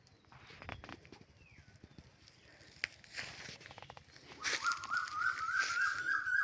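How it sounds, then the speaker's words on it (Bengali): A white-breasted waterhen calls outdoors among thorny shrubs and greenery, its repeated loud, clear notes starting partway through after soft footsteps and rustling in the undergrowth. "এই যে একটি পাখি ডাকতেছে"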